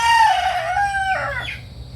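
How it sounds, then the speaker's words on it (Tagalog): A large fighting rooster, a gamecock weighing over two kilograms, crows loudly and close by, its call falling in pitch, then ending in a short cluck, with no talking. "Pagkalaking manok din ito."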